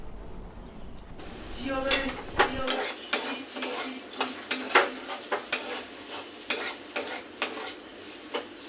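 A spoon stirring potato filling in a pan over low heat, rhythmic scraping strokes with metallic clinks over a soft sizzle, repeated steadily and close.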